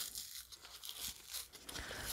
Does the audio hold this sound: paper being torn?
yes